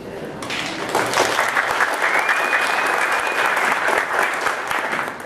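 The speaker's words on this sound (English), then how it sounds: "Please hold all applause for that, right?" A room full of people at a 2018 U.S. House congressional forum claps steadily, a sustained wave of applause with scattered cheers, fairly loud and close.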